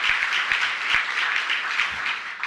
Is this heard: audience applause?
yes